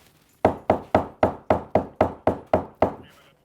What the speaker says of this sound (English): I was just banging on the ceiling to make sure that we knew exactly where it was.